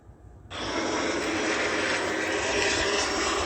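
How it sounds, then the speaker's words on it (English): Close airplanes fly over near a junkyard in the Davie area; after a quieter half-second start, a loud broad engine roar swells in and holds steady, with no one talking. "I must have seen 20 planes like fly over everywhere and close."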